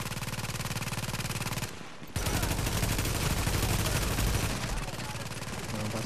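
A turret in the video game The Division fires sustained rapid bursts of automatic gunfire, loud and close, with a brief pause before the barrage resumes just as heavily.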